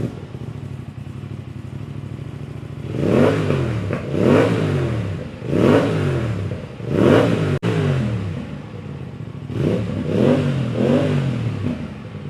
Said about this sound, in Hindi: ये ज़्यादा लाउड एग्जॉस्ट नहीं है,